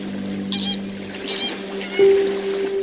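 Water birds calling at Lake Kerkini, a few short honking and chattering calls at moderate distance over a steady low hum like a boat motor, no talk.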